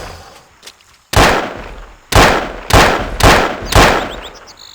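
Gunshots in the video game Trespasser: five sharp, loud blasts, one after another at roughly half-second to one-second gaps, each with a short decaying tail, following a brief quieter lead-in.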